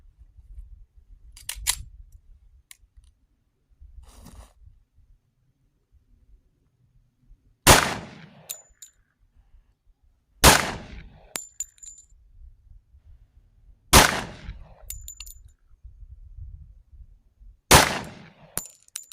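Four sharp 10mm Auto pistol shots firing practice rounds, spaced a few seconds apart and loud against quiet surroundings, each followed by a brief echo, with faint handling clicks before them.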